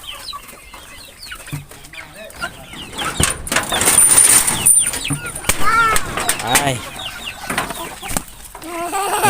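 Breeding hens and roosters cluck and call at close range in a farmyard pen, with scattered wingbeats and someone talking over them throughout.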